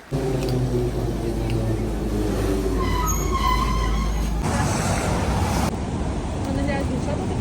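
A car passes on a city street in Kyiv, a loud broadband rumble of traffic that swells and then cuts off midway, with street noise continuing after.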